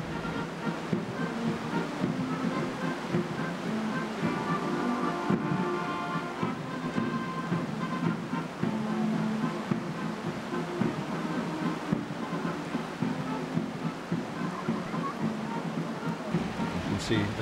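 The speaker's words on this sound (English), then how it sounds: "Loud the rain, you can scarcely hear the music." Heavy rain pours down on Horse Guards during Trooping the Colour, a dense, continuous hiss that nearly drowns out faint band music, with a commentator talking over it.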